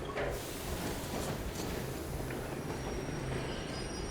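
A train runs on metro rails in the Metro Exodus video game, a steady rumbling clatter with faint wheel squeal, dense and continuous throughout.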